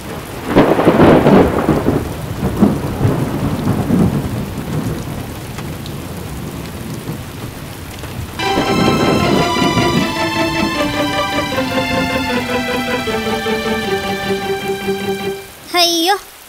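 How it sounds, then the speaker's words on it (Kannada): Heavy cartoon rain pours down with loud thunder crashes near the start, and then a bright, tinkling musical chime rises over the fading rain. "ಮಳೆ ಜಾಸ್ತಿ ಬರ್ತಿದೆ"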